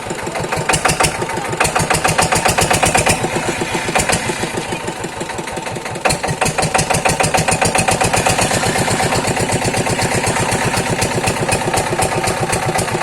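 A diesel engine running steadily with a loud, rapid rhythmic clatter, close to the microphone and continuous, its pace briefly dipping before recovering, with no talk over it.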